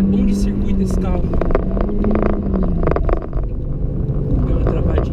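A Honda Civic Si is driven hard around a race circuit, its engine droning loud and close with shifting pitch while someone talks over it throughout.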